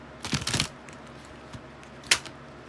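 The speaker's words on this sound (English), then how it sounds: "these are hard to shuffle" Tarot cards shuffled by hand in a quiet room: a quick riffling burst near the start, then a pause and a single sharp card snap or tap, close and moderately loud.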